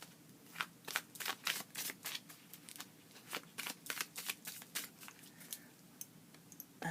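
Crisp riffling card shuffles repeat in quick bursts, with soft shuffling and tapping between them, close up and fairly quiet.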